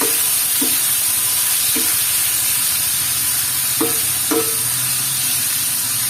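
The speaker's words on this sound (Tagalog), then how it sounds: "Yan yung ating pork. Haluin natin." Pork adobo frying in a pan gives a constant loud sizzle and hiss, broken by a few brief scraping knocks from stirring, with no talking.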